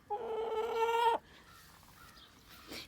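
A black Australorp hen on a farm gives a drawn-out, tonal clucking call, close and clear, then falls to quieter background rustles and a short faint cluck at the end.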